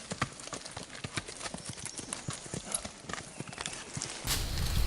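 Horse hooves clip-clopping steadily along a trail in Francis Marion National Forest, a brisk, close, even rhythm of sharp hoof strikes under outdoor noise.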